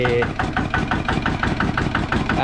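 A farm tractor engine fitted with an aftermarket racing exhaust pipe idles loud and close, putting out a rapid, even train of throbbing exhaust pulses without a break.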